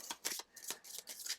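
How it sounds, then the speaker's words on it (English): Playing cards for the board game Chai being shuffled by hand, a quick run of soft riffling bursts, close and quiet. "let's shuffle these up"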